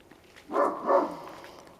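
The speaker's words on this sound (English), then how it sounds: "these dogs barking for long periods of time unprovoked" Neighbourhood dogs barking unprovoked, two muffled barks in quick succession from some distance, over a quiet background.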